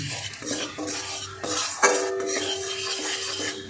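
Flour stirred into melted butter in a pan, with a utensil scraping and clinking steadily against the metal over a soft, low sizzle, close and continuous with no voices.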